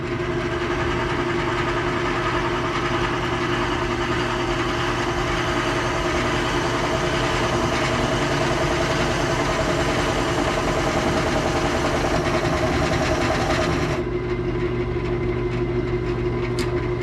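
A wood lathe spins hard apple wood against a carbide bit, giving a steady, loud motor drone with a constant hum throughout that thins abruptly near the end.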